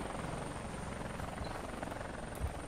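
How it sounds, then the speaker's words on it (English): Helicopter in the Finding Bigfoot PC game, a steady faint rotor drone with a low chopping throb, continuous and quiet with no talk over it. "Bye, helicopter."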